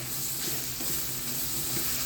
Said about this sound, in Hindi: कुछ डालकर थोड़ा सा और भूनेंगे